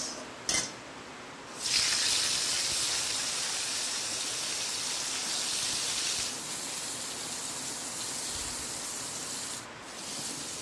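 Pointed gourd fries with dried chillies in hot oil in a wok, giving a steady loud sizzle that starts abruptly and continues with small surges.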